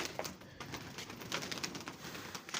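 Pigeons cooing in a rooftop loft, a low, soft murmuring that runs steadily under broad background noise without any clear single call standing out.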